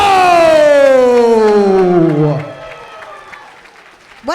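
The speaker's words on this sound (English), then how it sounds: "What an ovation from the Limitless Wrestling crowd." A Limitless Wrestling crowd gives LuFisto a loud ovation of cheering and applause, with a falling tonal wail over the first seconds before the noise eases and fades. A voice talks over the crowd.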